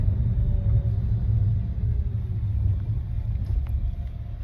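A car driving on a road in New York City, heard from inside as a loud steady low rumble of engine and tyres, continuous and with no talk.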